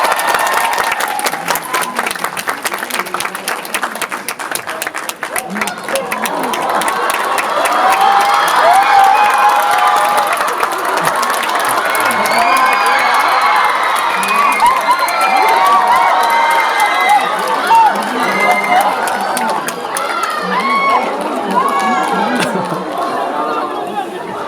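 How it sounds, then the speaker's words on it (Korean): A cinema audience at a special screening event breaks into loud applause and cheering for a surprise guest, a dense sustained roar of clapping, shouts and crowd chatter that swells midway and fades slightly toward the end. "큰 박수로 맞이해주세요"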